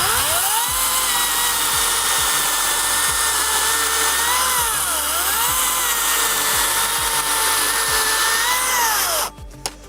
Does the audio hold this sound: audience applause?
no